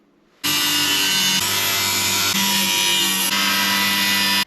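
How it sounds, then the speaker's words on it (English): A power tool grinds off nails poking through a Toyota Tacoma truck camper roof, starting abruptly from quiet into a loud, harsh, sustained whine that shifts pitch slightly in a few stages before cutting off sharply, with no voices. "now I have to grind off some of the nails that are poking through the roof"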